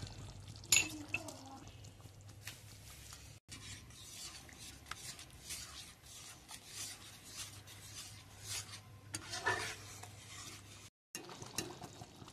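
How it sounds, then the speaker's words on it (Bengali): Yogurt being added to a pan of spiced masala for masala paneer, with soft wet scraping and stirring sounds that continue through most of the moment over a low steady hum, plus a couple of sharper clinks. "দইটা দিয়ে দেবো এবার।"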